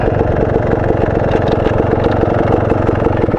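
A Beta Xtrainer dirt bike engine runs loud and close, holding a steady, rough, low putter throughout with no voices.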